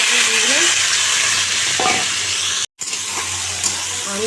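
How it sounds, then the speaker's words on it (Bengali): Bitter gourd and pumpkin frying in a wok sizzle steadily up close, with stirring scrapes and light clinks and a brief dropout in the middle. "এই উচ্ছে কুমড়ো ভাজবো"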